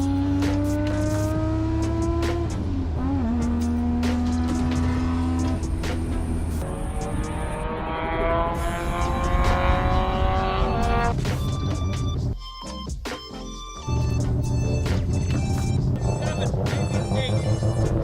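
A track car with a newly fitted ECU is driven hard on a circuit, its engine howling up and down through gear changes with tyre squeal and passing traffic, loud and close, with a brief lull near the end.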